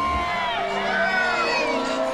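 A large crowd at The Hobbit film premiere cheers and whoops, with overlapping excited shouts and voices forming a loud, continuous roar close by.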